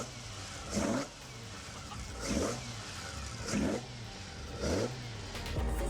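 A Nissan Skyline's engine revved four times in a row, each blip rising and falling over a steady idle, loud and close, with no voices.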